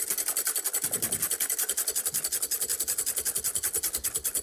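A chocolate mousse mixture whisked briskly by hand in a back-and-forth motion, giving a steady, rapid rhythmic scraping and swishing close up, with no talk over it.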